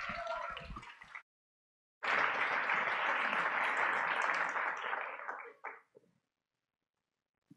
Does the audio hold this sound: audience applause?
yes